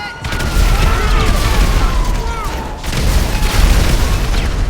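A grenade launcher fires grenades in GTA Online, a loud sustained rumble of booms and bursts with whistling projectile tones sliding downward, dipping briefly before swelling again.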